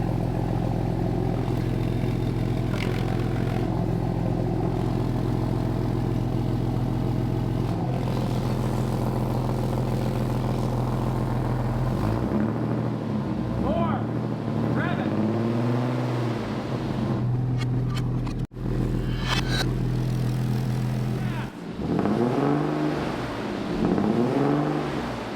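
A car engine revving through a newly built exhaust system, a deep steady idle rumble broken by several loud throaty rev swells, close and without talk.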